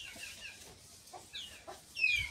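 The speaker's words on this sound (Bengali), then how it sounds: "আরে মুরগিগুলো কি পাইল রে?" Village chickens cluck in short, scattered calls at close to moderate distance, fairly quiet, with a brighter squawk near the end.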